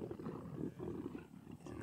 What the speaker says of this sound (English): Now those are the cubs fighting in the background over the rest of the carcass.